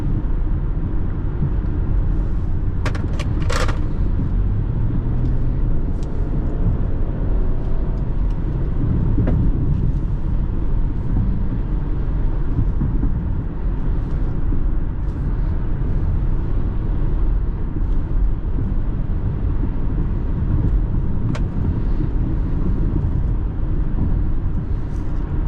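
The engine of a 2017 Infiniti QX70 AWD SUV drones steadily and loudly throughout, low and rumbling, with a few brief higher clicks early on; no clear rise in revs.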